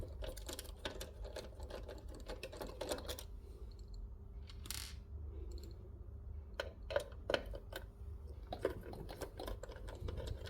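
Small screws are being backed out of the shielding cover of a Siglent SDS800X HD oscilloscope, heard as quiet clicks, ratcheting and faint metallic taps in short bursts against a low background hum.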